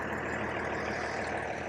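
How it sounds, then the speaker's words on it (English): Diesel tractor engine idling steadily in the background beside a big oak log section at a Kentucky chainsaw carving site, a continuous low mechanical rumble at moderate distance with no break. "tractor running in the background"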